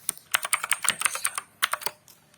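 Keys clatter on a computer keyboard while a bash shell command is entered, quick irregular clicks in two bursts separated by a short pause, close and without any talking.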